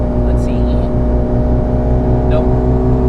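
Mitsubishi Lancer Evolution engine running on low boost, a loud steady idle-like drone with strong low harmonics and a slight rising pull, close and continuous with faint chirps above.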